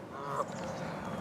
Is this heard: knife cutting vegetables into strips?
no